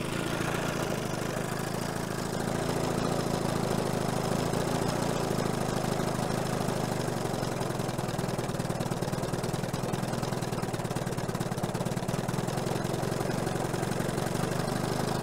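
A 1970 Evinrude 25HP outboard motor idles out of gear, a steady, loud mechanical chugging drone that holds even and unbroken from start to finish with no voices.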